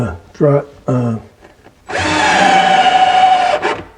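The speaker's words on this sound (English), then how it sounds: "I'm just attaching them with" A power drill drives pocket hole screws to join a plywood cabinet case to its base and top for a shop file cabinet. A brief voice comes first, then one loud, close, steady whirring burst lasting about a second and a half.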